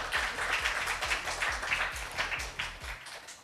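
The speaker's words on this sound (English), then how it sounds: "Can we all give her a huge round of applause" An audience applauds a speaker at a women's mental health event, soft crowd clapping with a steady pulsing beat beneath it, fairly quiet and distant, ending abruptly.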